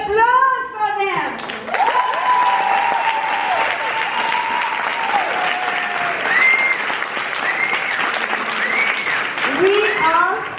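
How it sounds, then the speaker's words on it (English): An audience at the Cyprus Salsa Congress applauds salsa dancers with sustained, loud clapping and cheers throughout, while a voice calls out over the crowd. "Please, a big applause for them."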